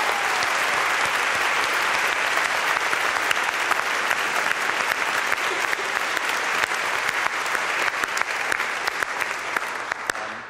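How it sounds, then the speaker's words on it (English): Big round of applause from an audience at a talk, steady dense clapping from a full room that holds for about ten seconds and then starts to fade. "Would you please give them a big round of applause?"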